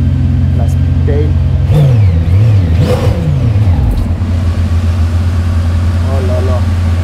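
A full-carbon McLaren Speedtail hypercar on a Paris street gives a brief, close rev that climbs and falls over steady traffic rumble, with voices talking nearby.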